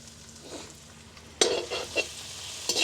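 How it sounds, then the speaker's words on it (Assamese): Onion and ginger-garlic paste fry with whole cloves, cardamom and cinnamon in a little mustard oil in a kadai: a low, steady sizzle broken by the scrape and clunk of stirring, then more bursts of crackle. "অকণমান ৰঙচুৱা হোৱালৈকে ভাজি ল'ম এইখিনি"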